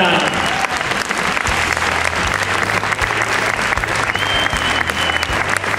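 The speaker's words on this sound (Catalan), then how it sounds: "Fort aplaudiment per ells, que els tenim aquí a pista." Loud, sustained applause from an audience fills a dance contest hall as dancers take the floor, a dense, steady roar of clapping that holds at full strength throughout, with a low hum underneath.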